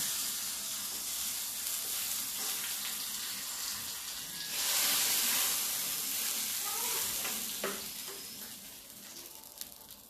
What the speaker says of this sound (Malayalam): ഇത്തിരി ഉള്ളിയും എല്ലാം കൂടെ ചേർത്ത് ഞാനൊന്ന് താളിച്ചൊഴിക്കുന്നുണ്ട്